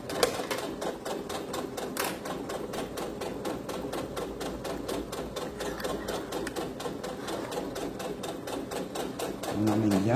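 A sewing machine stitching fabric for a small phone-charger pouch runs with a fast, even needle clatter throughout, close and steady, with someone talking softly beneath it.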